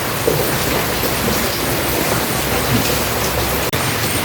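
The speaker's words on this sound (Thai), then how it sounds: "แรงฝนมาเลยนะ" Heavy rain pours steadily in a forest while foraging for bamboo shoots, a dense, loud, continuous hiss close around with one brief sharp click near the end.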